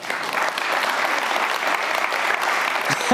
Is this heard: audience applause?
yes